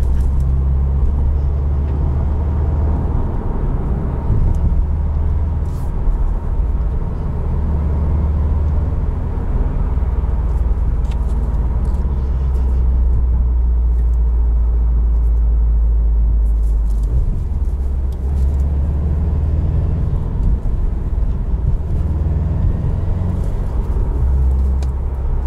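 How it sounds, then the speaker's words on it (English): A 2020 Subaru WRX STI Limited's boxer engine with unequal length headers rumbles from inside the car, a deep, loud, continuous low drone with slight shifts in pitch as it drives, no talking. "With unequal length headers, which gives you that boxer sound."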